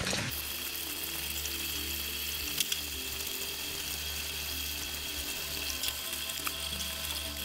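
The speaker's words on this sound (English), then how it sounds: "I think it's going to be the last rinse off of these." Cold tap water runs steadily while porgy and sea bass are rinsed for sushi, a continuous close splashing hiss with occasional small knocks of fish and hands in the sink, no talking.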